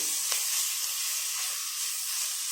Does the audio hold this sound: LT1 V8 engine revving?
no